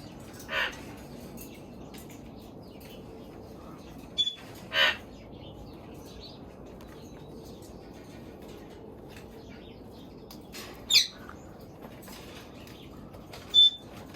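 Rescued parrots at a sanctuary give a few short, sharp squawks and chirps, spaced seconds apart, over a quiet indoor hum in their play area.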